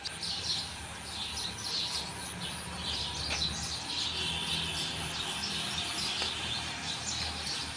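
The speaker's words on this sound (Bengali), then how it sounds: "সুন্দর পাখির কিচিরমিচির" Dense chorus of many birds chirping together in a tree full of birds, amid flowers, with continuous overlapping high tweets at steady moderate loudness and no talk.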